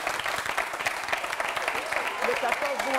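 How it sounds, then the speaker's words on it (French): Studio audience applauding on a French television set, a steady wash of clapping throughout with voices and brief cheering rising underneath toward the end. "Applaudissements."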